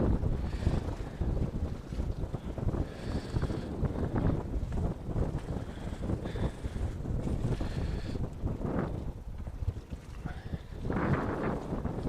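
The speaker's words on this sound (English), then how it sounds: "with the wind howling like it is" Wind roars steadily across the microphone on the open deck of a boat, a continuous gusty rumble with rushing, buffeting surges throughout.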